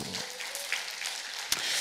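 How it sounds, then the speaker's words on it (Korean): Faint, steady applause from a church congregation at a prayer retreat, a soft continuous patter heard from a distance, with one sharper clap near the end. "우리 하나님께 감사 영광의 박수"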